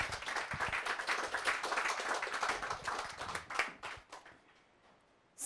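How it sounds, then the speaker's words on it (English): An audience applauds after a reading at a talk on family and immigration, a dense round of clapping that starts strong and fades out toward the end. "We have another round of applause for that great reading."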